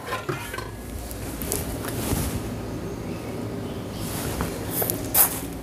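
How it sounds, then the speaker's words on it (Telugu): A spoon scrapes and clinks against a pot while a little sugar goes into tamarind egg pulusu, with steady close stirring and clattering over a faint sizzle and no talking. "జస్ట్ ఒక చిన్న స్పూన్ చక్కెర వేస్తున్నాను."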